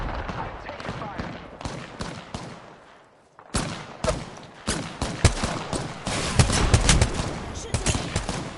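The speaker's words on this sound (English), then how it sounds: "I'm taking fire." Gunfire in the Apex Legends video game, a burst of sharp shots, a pause, then dense rapid automatic fire building louder toward the end, with game voices and players talking between the shots.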